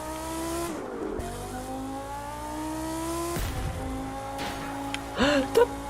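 An Audi R8 V10 in the racing game The Crew 2 revs hard through gear changes, with sharp broadband bursts between shifts and a cluster of loud pops and crackles near the end.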